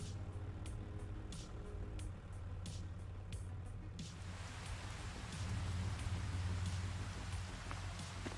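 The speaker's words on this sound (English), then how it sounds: "Oh, now it's raining." Rain falling in the farming video game Farming Simulator, a steady broadband hiss that thickens and grows louder partway through, over a low constant engine-like hum.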